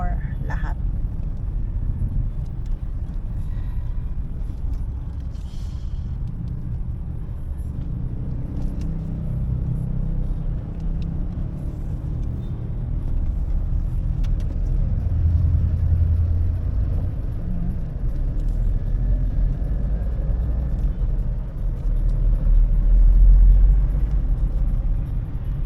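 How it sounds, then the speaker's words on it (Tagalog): Traffic on Marcos Highway with fast jeepneys and motorcycles, heard as a steady low road rumble that swells a little as vehicles pass nearby, with people talking over it. "Nandito na kami sa Marcos Highway. Ayan. Dito na yung mga mabibilis na mga jeep,"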